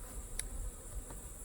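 Honeybees buzz around hives on a farm, a faint steady drone with a few individual bees flying close by for a moment.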